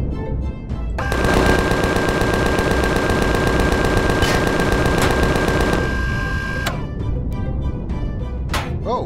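Rapid sci-fi gunfire from the game Empyrion Galactic Survival: a dense, loud automatic burst with a steady tone lasts several seconds, then clipped single shots follow.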